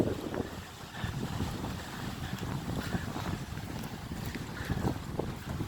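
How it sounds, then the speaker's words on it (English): Strong wind from Hurricane Michael rushes through a house's back yard as a steady broadband roar, with gusting rumble from the wind buffeting the microphone and no voices. "The wind is still blowing pretty bad."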